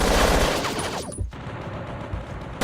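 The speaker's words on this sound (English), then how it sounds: "I'm gonna come out of the bunker and start firing." Rapid automatic gunfire bursts in the video game Battlefield Yugoslavia, loud and close, a sustained fusillade that cuts off abruptly, then resumes briefly at the end.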